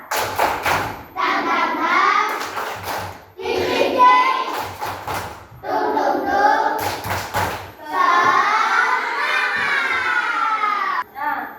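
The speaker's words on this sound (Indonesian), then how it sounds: "Ayo kita sekarang tepuk semangat." Third-grade schoolchildren in a classroom clap a quick rhythmic spirit-clap pattern in bursts, with sharp thuds and their voices chanting along between the claps.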